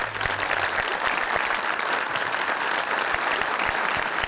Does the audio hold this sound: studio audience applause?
yes